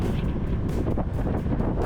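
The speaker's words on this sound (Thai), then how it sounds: "ลมแรงมาก" Strong wind buffeting the microphone during a motorcycle ride on Ko Yo island, a loud continuous rumbling roar close up with no clear breaks and no talk.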